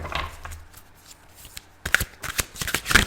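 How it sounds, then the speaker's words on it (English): Tarot cards being shuffled by hand, close and clear: soft riffling and sliding with a burst of crisp, rapid flutters in the second half, no voices. "If you don't like the shuffle, please fast forward."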